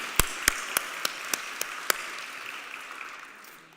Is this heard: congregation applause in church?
yes